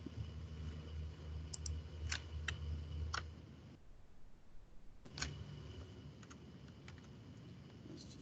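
Clicks from typing on a computer keyboard while searching diagnostic trouble codes in troubleshooting software, a few sharp keystrokes and short bursts, fairly close and quiet, with a brief pause midway.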